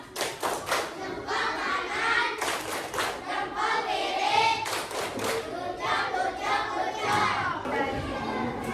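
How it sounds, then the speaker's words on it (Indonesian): A classroom of students doing a rhythmic good-job clap for a group, with sharp bursts of clapping in patterned rounds, some chanting voices mixed in, fairly close and lively. "Tepuk good job buat kelompok DAPA"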